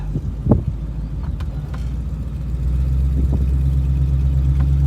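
A 1961 Ford Thunderbird pulling away on a test drive, its engine rumbling low and growing steadily louder as it gets under way, with a few faint knocks early on.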